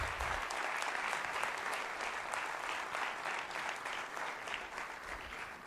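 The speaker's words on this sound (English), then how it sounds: "Let's give them a big round of applause." At an alumni homecoming, a crowd gives student volunteers and the student council a big round of applause. The dense, continuous clapping sounds slightly distant and stays even from start to finish.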